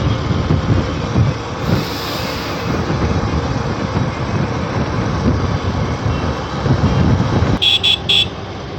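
Steady road traffic rumbles on a Kolkata street, then three short, loud vehicle horn honks sound close by near the end.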